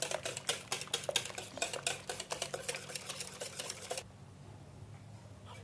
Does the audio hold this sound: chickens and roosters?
no